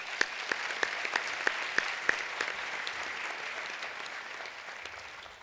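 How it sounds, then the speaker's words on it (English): A lecture audience applauds in a sustained wash of clapping, with a few sharper individual claps standing out early before the sound tapers slightly. "Let's give yourselves a round of applause."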